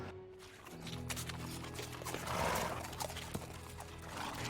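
On an equine therapy farm, a horse's hooves clip-clop at a quiet distance, with a soft whinny and light shuffling in the background and no voices.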